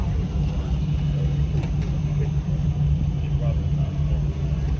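Steady, loud engine rumble and road noise from inside a car cruising the loop at the Frog Follies car show, continuous with no breaks.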